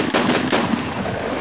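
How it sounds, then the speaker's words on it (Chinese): Gunfire in the video game Escape from Tarkov on the Shoreline map: a short, dense burst of loud, rapid shots with no voices. "结果你开枪了"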